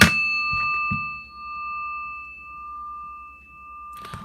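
A small bell is struck once and rings out with a bright, sustained metallic tone that slowly fades, followed by a second strike near the end, close and loud without talking.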